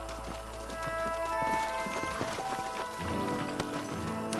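Steady clip-clop of horse hooves trotting at a moderate pace in the video game Red Dead Redemption, with a low rumbling ambience and faint musical tones in the background.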